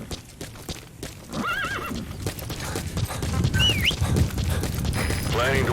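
In the video game Metal Gear Solid V: The Phantom Pain, a horse's hooves clip-clop at a steady pace while it gives several short whinnies, with game sound effects alongside.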